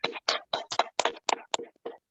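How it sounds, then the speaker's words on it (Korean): Hands clapping to welcome a pastor onto a church evangelism seminar held over Zoom, a quiet, sparse run of about nine evenly spaced claps, each distinct and separated by brief silence. "박수로 모시겠습니다"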